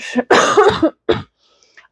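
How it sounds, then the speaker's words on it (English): A few harsh coughs close by, a cluster of rough bursts followed by one more short cough, then quiet. "do have a bit of a cough, so I'm sorry about that"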